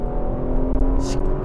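A Porsche Macan GTS pulls out of a corner under acceleration, a loud steady engine drone heard from inside the car with a faint brief whoosh.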